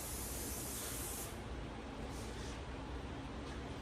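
Gorilla spray adhesive hisses from an aerosol can in a steady close burst lasting just over a second, then fades into a softer, quieter spray that carries on to the end.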